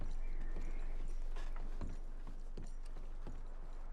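Horse hooves clip-clop at an unhurried, uneven pace in the video game Red Dead Redemption 2, heard faintly under a steady outdoor ambience with light mechanical rattling.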